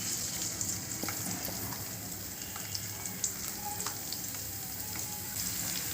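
Oil frying in a pan while tomato pickle is made, giving a steady close sizzle and crackle with small pops throughout and no talking.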